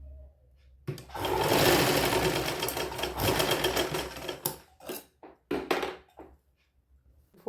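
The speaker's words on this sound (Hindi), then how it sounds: "इसको सिलाई लगा लेंगे" A sewing machine stitches fabric for a young girl's sharara outfit, running in one steady loud burst for about four seconds, then stopping and starting in short stuttering runs with brief pauses.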